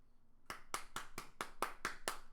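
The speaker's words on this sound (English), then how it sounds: "a clap for that comment" Eight sharp hand claps in a steady rhythm, quiet and close, with no voices.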